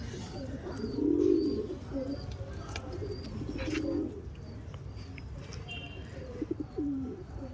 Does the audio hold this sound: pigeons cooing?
yes